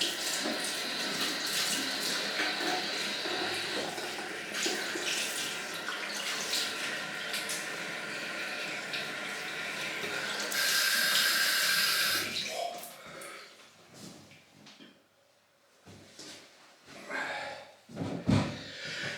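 Tap water runs steadily into a sink while a vintage 1972 Gillette Slim Twist razor is rinsed, a close, continuous splash that stops after about twelve seconds, leaving scattered clinks and breathing.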